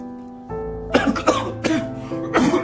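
A person with a cold coughs four times in close succession, loud and near, with some vocal humming just before the first cough.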